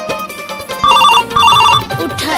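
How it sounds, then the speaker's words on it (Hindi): A phone rings in two short electronic bursts of chirping tones over background noise and household clatter. "काका फोन आके उठा दो।"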